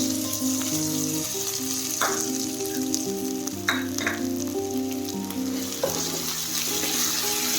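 Greens (soppu) for a palya frying in a pan, a continuous close sizzle with the scrape and clatter of stirring at intervals, without any voices.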